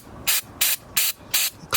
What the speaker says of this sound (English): I'm gonna spray the MAF sensor